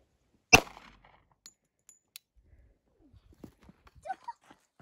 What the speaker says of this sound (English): husband's going to shoot the 45